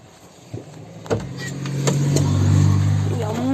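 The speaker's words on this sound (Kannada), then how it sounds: "ಆ ಗೇರ್ ಹಾಕಿಲ್ಲ, ನ್ಯೂಟ್ರಲ್ಲೇ ರೈಸ್ ಕೊಡ್ತಿದ್ದೀನಿ." A Mahindra Marshal jeep engine revs in neutral, rising into a steady, loud, close drone after a couple of knocks and clunks, with a brief voice in the background.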